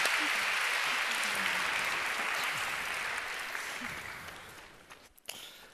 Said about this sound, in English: Please an applause for this splendid